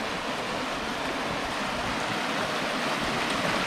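Spring water rushes steadily out through a spring house into the Suwannee River, a loud, continuous broadband wash with no breaks and no voices.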